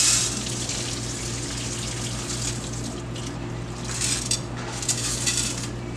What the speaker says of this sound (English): Empty the water out